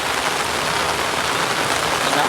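Heavy rain pouring steadily and loudly in Patan, Gujarat, a dense continuous hiss of drops close by.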